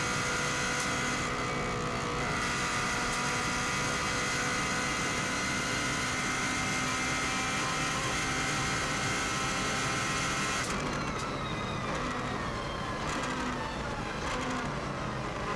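A 2016 Subaru WRX STI races flat out on the Isle of Man TT course, its engine droning loud and constant under hard power from inside the car. Roaring wind and road noise mask the engine, with a shift in tone toward the end.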